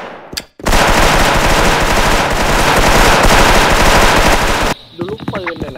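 A video game weapon fires a long, loud, unbroken burst of automatic gunfire lasting about four seconds, with a single shot just before it and voices talking briefly after it stops.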